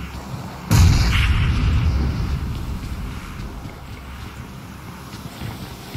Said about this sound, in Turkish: Ana bomba geldi.